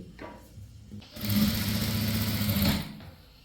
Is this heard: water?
no